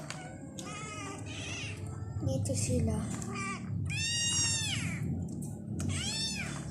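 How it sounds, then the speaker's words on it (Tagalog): Several high, drawn-out cat meows ring out close by, a few seconds apart, with a voice speaking briefly in between. "papakita ko yung pusa namin"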